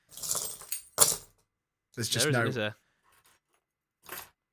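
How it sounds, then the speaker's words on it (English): Keys set down on a table give a short metallic jangle and clink, close and fairly loud, between stretches of conversational speech. "I'm just going to put my keys down."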